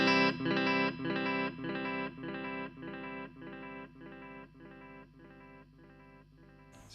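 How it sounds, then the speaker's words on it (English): Digital delay from a Valeton Coral Mod pedal: a guitar phrase repeats as a train of evenly spaced echoes, each repeat a little quieter, fading steadily over several seconds with no talking. "So it's a nice digital delay."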